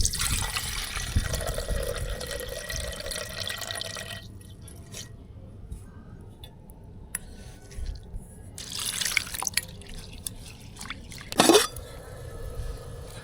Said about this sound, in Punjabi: ਹੁਣੇ ਪਾਣੀ ਆਪਾਂ ਕੱਢ ਦਿਆਂਗੇ ਤੇ ਫਿਰ ਹੋਰ ਪਾਣੀ ਪਾ ਕੇ ਧੋਵਾਂਗੇ